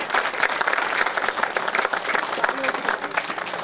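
Loud, dense applause from an audience gathered for a Nilgiris district village women's development scheme event, sustained and even for several seconds with no pauses.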